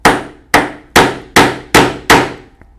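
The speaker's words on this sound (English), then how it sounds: "I will cut the slot with a 3/4 inch bag punch because that's the size of the strap we're going to use." Six sharp, evenly spaced hammer blows drive a 3/4 inch bag punch through leather, each crack loud and close with a brief ringing decay, followed by a faint tap.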